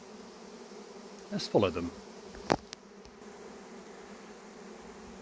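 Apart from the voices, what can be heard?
swarm of honeybees flying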